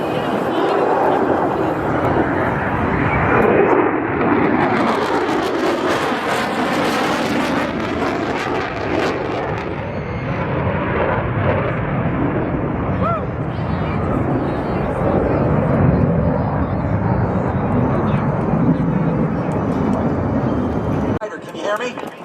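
A U.S. Navy F-35C Lightning II jet performs at the New Orleans airshow, its loud, continuous roar filling the whole stretch and rising and falling as it passes, while a person talks over it throughout.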